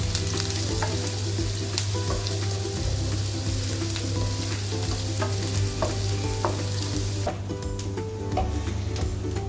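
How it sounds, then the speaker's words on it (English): Onion and garlic sizzle steadily in a hot pan, with occasional stirring scrapes and clinks; loud, close, and no talking. "we put the diced onion and the diced garlic into the pan"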